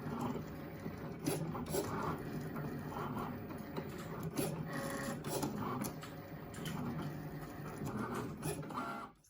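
A vinyl cutting machine cuts out Hello Pumpkin letters, its carriage motor whirring and buzzing in irregular bursts with small clicks and ticks, steady and close, with no talk.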